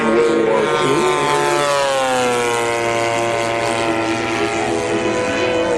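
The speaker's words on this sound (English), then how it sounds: "This is a gasoline-powered engine" A gasoline-powered engine on a P-47 model airplane runs steadily up close, its loud continuous drone holding a constant pitch with a slight shift partway through.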